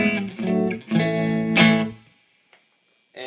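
A Fender 60s Classic Player Strat electric guitar plays through a Vox Pathfinder 15R amp with slow tremolo and light reverb, several ringing chords with a pulsing swell, then a pause before one more strum.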